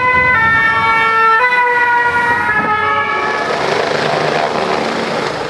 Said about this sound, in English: A stream of ambulances rushed to and from the chaos.